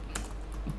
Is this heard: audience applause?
no